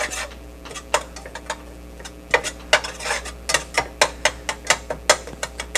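Meat and unsalted butter being stirred in a pan, a series of sharp metallic utensil scrapes and clinks in an uneven rhythm, close and distinct over a low steady hum, with no talking.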